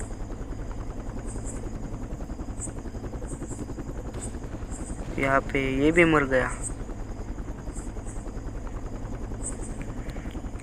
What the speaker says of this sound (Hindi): हेलीकॉप्टर बहुत ऊपर है इसलिए दिख नहीं रहा है, थोड़ा थोड़ा दिखता है।